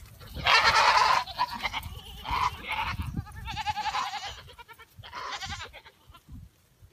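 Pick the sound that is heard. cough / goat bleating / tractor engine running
goat bleating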